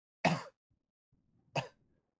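A voice imitates a cough, two short, rough bursts separated by a pause, close and otherwise quiet.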